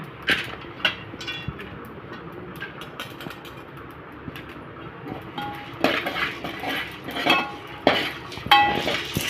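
Dried ginger and long pepper are sautéed in a pan in a village kitchen, with scattered metal clinks and scraping of a spoon against the pan, growing busier and louder toward the end, with no talking.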